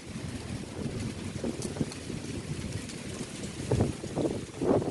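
Strong wind buffets the microphone in rough, rumbling gusts, swelling louder near the end, with no clear voices.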